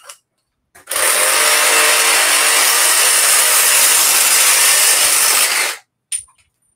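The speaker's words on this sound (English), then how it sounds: "you're also using a bigger recip saw than the hacksaw" A large reciprocating saw cuts in one loud, close continuous burst of about five seconds, a dense buzzing roar that starts and stops abruptly, with brief knocks before and after.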